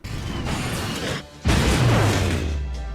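A vacuum-like effect from a Noble Phantasm animation in a video game: a loud mechanical rush that breaks off briefly, then returns with a heavy boom and a low, sustained suction roar.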